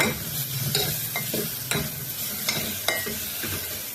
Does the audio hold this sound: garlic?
yes